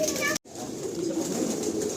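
Pigeons in a loft give soft, low, throaty coos in a continuous murmur after a brief dropout, close by with a faint hum of the room around them.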